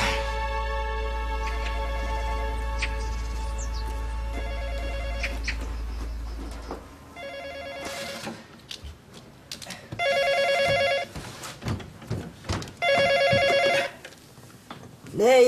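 An old-style telephone bell rings in two or three bursts within a Korean TV drama scene, loud and close, after a stretch of music and talk, with people speaking between the rings.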